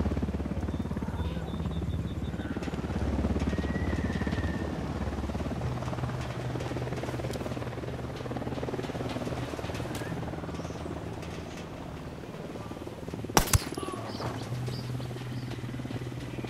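A helicopter in the Ghost Recon Wildlands video game flies overhead with a steady, loud rotor drone that holds throughout, broken near the end by a couple of sharp, brief impacts.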